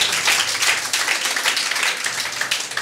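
Church congregation applauding, a dense, steady roar of many hands clapping at close range, continuous and loud throughout.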